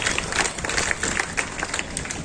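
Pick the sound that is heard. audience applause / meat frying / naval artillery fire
audience applause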